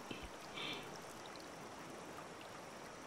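A jungle river flows with a steady, even rush of water, close and unbroken, with a faint chirp briefly rising above it early on.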